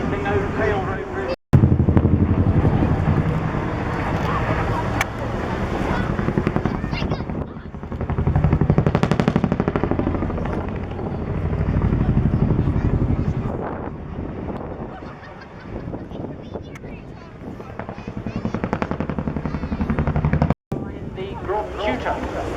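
Contra-rotating twin-rotor helicopter performing a steep nose-over display at a seaside airshow, its broad rotor thrum swelling and fading over about twenty seconds amid wind noise and crowd sounds.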